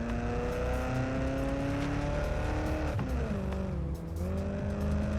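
A spy car cruises through London in Watch Dogs: Legion, its engine droning steadily with rising and falling pitch as it shifts and accelerates, loud and close under a music bed.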